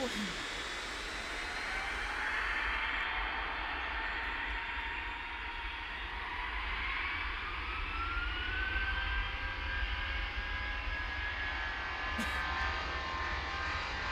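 A distant jet engine in the airport control tower game Tower! Simulator 3 roars steadily with a rising whine and a constant low rumble underneath, sounding far off rather than close.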